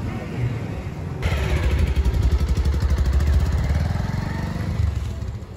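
A motorcycle ridden by a young learner carrying three people, in Rohtak, starts up after a second of quiet, then its engine thrums close by in a rapid, steady pulsing beat that fades a little toward the end.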